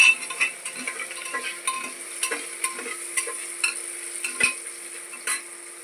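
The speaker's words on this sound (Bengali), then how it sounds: "সবজিগুলো ভাজছি" Chopped vegetables fry in a pan with a steady sizzle, while repeated scraping and clinking stir strokes tap out an uneven rhythm up close.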